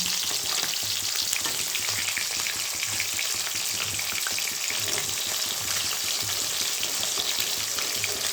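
A flipped koi fish frying in hot mustard oil gives a constant, loud crackling sizzle with faint popping, close up and without voices.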